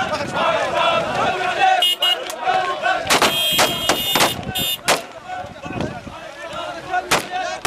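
Gunfire shot into the air at a tribal funeral gathering by the Euphrates, loud sharp bursts and separate cracks in irregular rhythm amid shouting men and crowd noise.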